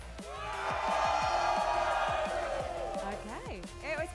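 An esports arena crowd roars and cheers on command, a broad sustained swell of voices with whoops, while a host's voice speaks over it and rises at the end.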